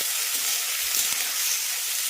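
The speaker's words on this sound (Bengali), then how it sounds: "আলু আর বেগুনটাকে লম্বাটে টুকরো করে এইভাবে লম্বা লম্বা করে খুব ভালো করে এটাকে ভাজবো" Long-cut potato and eggplant pieces with onion fry in hot oil, giving a steady close-up sizzle and hiss that carries on evenly throughout, with no voices.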